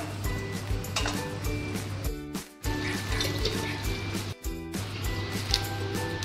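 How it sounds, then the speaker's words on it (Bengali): Tap water runs and splashes while a bowl is rinsed, a steady close trickle with light clinks, cut off briefly twice, under a low hum. "এই বাটিটা ধুয়ে দিলাম।"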